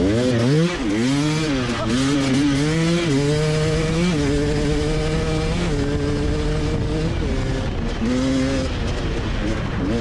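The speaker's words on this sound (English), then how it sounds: "you get ready to start the bike and pin it and jump off." A Gas Gas enduro motorcycle at a hard enduro race start, its engine loud and close, revving up and down in repeated rising and falling pitch sweeps before settling into a steadier held rev.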